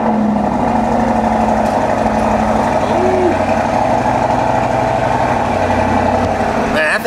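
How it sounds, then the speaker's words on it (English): Audi SQ8 engine idling, a steady close low rumble that holds even and continuous throughout, with a faint brief rising whine partway through. "Thing sounds good. Audi SQ8."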